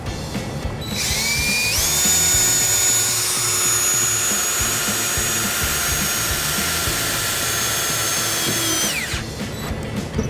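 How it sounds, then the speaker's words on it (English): An electric drill whines steadily at high speed for several seconds, loud and close, drilling a ground hole on a 2013 Ford Escape, then spins down and stops. "We'll take our electric drill and make our ground."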